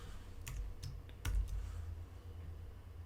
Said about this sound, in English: I'm going to type a title here